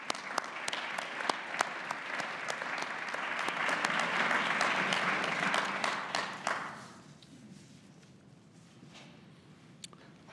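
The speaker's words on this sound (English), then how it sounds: "And if we may offer them some applause for their generosity." An audience claps warmly at an architecture lecture, with dense applause building for about seven seconds before thinning to a few scattered claps and room tone.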